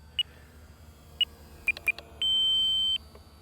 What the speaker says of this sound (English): That's our 5-minute timer.